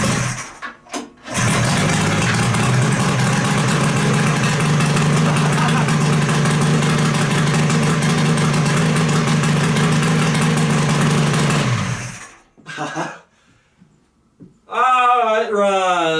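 A lifted mini muscle car engine catches after cranking and settles into a loud, steady idle for about ten seconds, then shuts off; a voice speaks briefly afterward.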